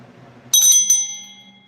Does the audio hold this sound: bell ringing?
yes